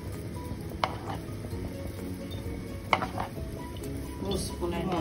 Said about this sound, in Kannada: ಇಲ್ಲಿ ಒಗ್ಗರಣೆ ಮಾಡ್ತಿದ್ದಾರೆ.